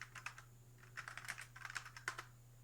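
Someone types a message on a computer keyboard in quick, irregular bursts of soft, close key clicks while a faint steady hum sits beneath, with no talk.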